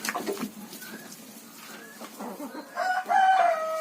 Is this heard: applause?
no